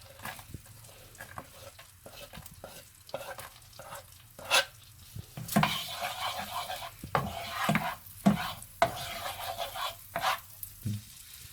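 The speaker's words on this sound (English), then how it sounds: "now that the butter is melted, I'll add some chopped garlic and green chilies" Chopped garlic and green chilies frying in melted butter in a pan, a steady sizzle broken by louder scraping stirs and clatters of a spoon against the pan, close and fairly loud, no voices.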